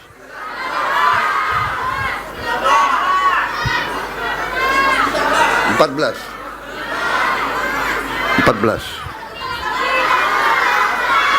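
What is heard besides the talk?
crowd shouting at dam inauguration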